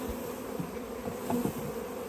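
Dense, steady buzzing of a large mass of package honeybees being installed into a hive, a continuous close drone with slight swells and no talking.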